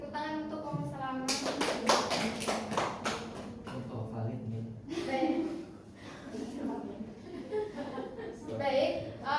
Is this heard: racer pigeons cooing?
no